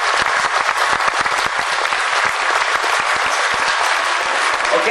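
An audience at a Ukrainian festival claps steadily, dense applause from many hands, loud and continuous across the whole stretch without talk.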